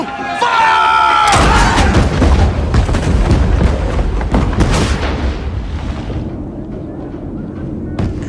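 Ship's cannons fire in a naval battle scene from the film Master and Commander, a sudden heavy broadside of booming blasts and crashing debris that rumbles on and slowly fades, with voices shouting.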